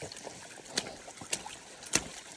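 Boots splash through shallow water on a muddy hiking trail, a few soft wet steps spaced about half a second apart, faint and close against light wind.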